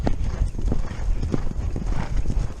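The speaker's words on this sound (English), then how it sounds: "That horse was coming after us." Horse hooves clip-clopping at a steady trot, with busy rumbling wind or movement noise over the top and a hint of a whinny, the hoofbeats close and fairly loud.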